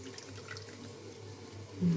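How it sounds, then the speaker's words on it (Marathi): Water draining from soaked red poha, a faint, steady trickle and splash of liquid in a kitchen, with a brief louder pour at the very end. "पोहेला आपण एक ते दीड मिनटं पाण्यामध्येच भिजून घ्यायचं आहे असं मग पाणी नितळून काढायचं"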